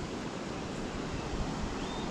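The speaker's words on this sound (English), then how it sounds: "like a bit of a waterfall there" Soft, steady rushing of a small waterfall in a forest stream, a constant broadband hiss heard from some distance, with no voices.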